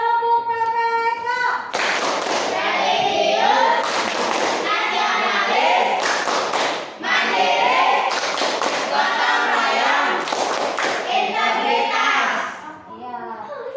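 A class of schoolchildren performs the 'tepuk PPK' clapping chant, voices chanting together in bursts with rhythmic hand claps and taps, loud and close, separated by brief pauses.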